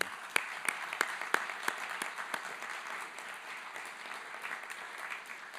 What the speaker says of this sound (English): So a big round of applause for all of our staff as well.